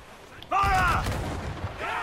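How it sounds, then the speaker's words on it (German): A heavy fort cannon blast in the video game Assassin's Creed IV: Black Flag booms in about halfway through and rumbles on, with a voice calling out over the roar. "Diese Kanonen schießen sehr weit."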